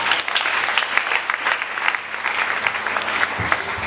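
A church congregation claps steadily in dense, sustained applause that fills the space, with a faint voice or two underneath near the end.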